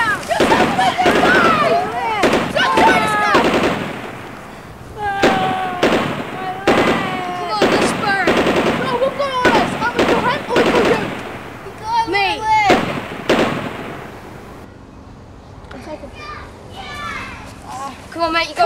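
Wartime gunfire in a battle setting, rapid sharp cracks and bursts scattered throughout, mixed with people shouting and calling out over and between the shots.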